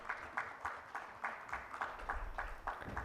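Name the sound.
audience applause for conference panel moderator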